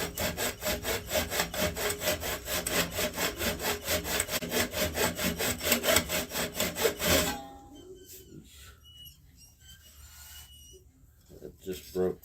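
A lathe tool cuts into a spinning canarywood vase blank, making a loud, steady rhythmic scraping with regular pulses for about seven seconds, then stopping abruptly and leaving a quieter stretch with faint handling noises.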